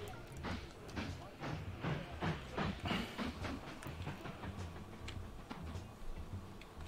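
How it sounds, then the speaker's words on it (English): A train rolls along in the railway-building game Mashinky, giving a steady rhythmic clickety-clack of wheels over the track at moderate volume, with the clatter peaking midway and then easing slightly. "we need that train to go, and then you can start going."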